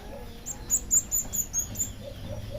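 A small jungle fowl chick chirps in a quick series of high, thin peeps, about seven in a row, close by with faint background noise.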